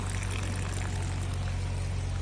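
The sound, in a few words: water flowing into aquaponics beds from fish tank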